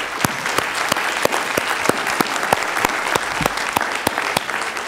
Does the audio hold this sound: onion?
no